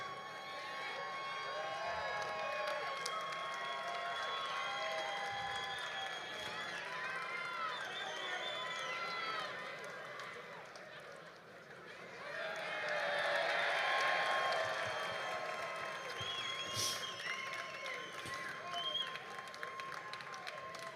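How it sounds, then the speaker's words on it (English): Large crowd applauding and cheering at a live route announcement event for the RAGBRAI cycling ride, broad and distant, swelling louder midway, with a voice and whistling-like tones over the clapping. "Join me in one more huge round of applause for our Honor Flight and Dream Team representatives."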